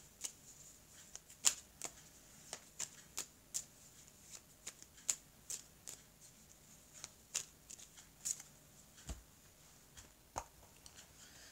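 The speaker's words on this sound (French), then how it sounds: "je vais vous mettre aussi une petite carte, un petit oracle des anges ici" Angel oracle cards are shuffled by hand, giving repeated crisp riffling snaps and slaps at an uneven rhythm, close and fairly quiet against a hushed room.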